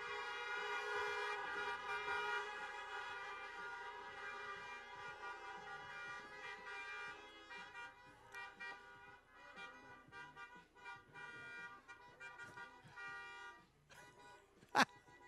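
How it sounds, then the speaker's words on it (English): Car horns toot at a drive-thru graduation parade, a sustained sounding horn blend followed by scattered honks and one sharp loud blast near the end, with some voices. "That is some seriously good honking we have going on."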